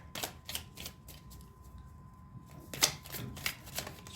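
Tarot cards shuffled and drawn, a string of quick crisp riffling and flicking bursts, close and fairly quiet, with a pause in the middle before more card snaps.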